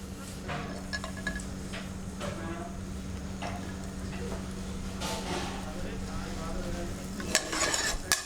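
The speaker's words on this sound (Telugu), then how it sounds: "ఈ ఘీలో డ్రై ఫ్రూట్స్ అన్నీ ఘీలో ముందుగా కొద్దిగా బాదం వేసుకుందాము" Almonds frying in ghee on a stovetop for phirni, a soft steady sizzle under repeated scraping and stirring strokes, with a few sharper clinks of a utensil against the pan near the end.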